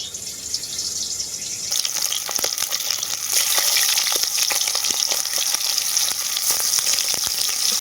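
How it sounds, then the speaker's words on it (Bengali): Sarting fish fry in hot mustard oil in a pan, a steady close crackling sizzle that jumps louder after the first couple of seconds and keeps popping throughout, with no talk. "তেলটা খুব ভালোভাবে গরম হয়ে গেছে এখন সার্টিং মাছগুলো ভেজে নেব আমি"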